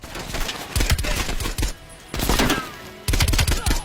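Gunfire from a Beretta in Call of Duty: Black Ops Cold War, three quick bursts in a row, each so tightly spaced the shots almost merge into one report, loud and close with short gaps between.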